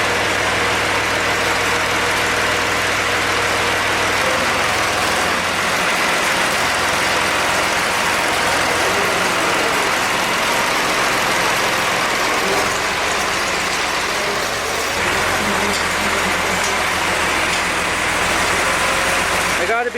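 A tractor engine idles steadily for a long stretch, a loud, even low rumble with slight shifts in tone as it warms up.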